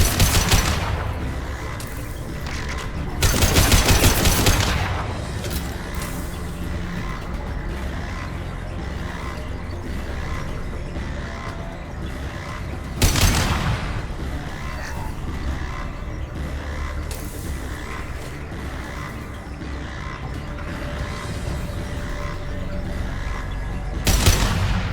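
Gunfire in the video game Mass Effect 2, loud bursts of rapid automatic shots and booming blasts that come in waves over a continuous rumbling battle bed.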